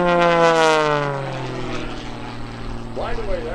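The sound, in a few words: propeller tips buzzing near supersonic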